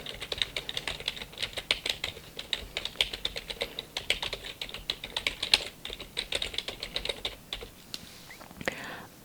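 Rapid, irregular clicking of fingers typing on a computer keyboard, close and crisp, in bursts that continue throughout with only faint soft voice in the background.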